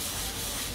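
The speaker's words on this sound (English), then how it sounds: "Use the scrubbing brush, work along the line." A scrubbing brush works along grout lines, rubbing grout residue off tiles with a steady, continuous close scraping and rasping sound and no talk.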